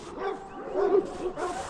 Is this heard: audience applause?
no